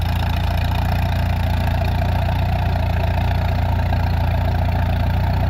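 Farmall Regular tractor with a four-cylinder engine of about 13 drawbar horsepower, idling steadily with a low, even rumble and constant mechanical drone, loud and close throughout with no talk.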